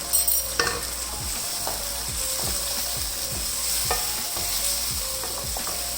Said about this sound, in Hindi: तो इसको मैं इसी तरह भूनती जा रही हूँ जब तक कि ऊपर घी नहीं आ जाता